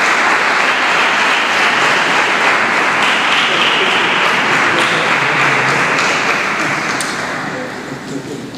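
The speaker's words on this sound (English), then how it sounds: "give a round of applause for Mr. Mthethwa" Audience applause at the South African Science Olympiads awards ceremony, a dense, steady wash of clapping from a large crowd that holds for several seconds and then slowly fades.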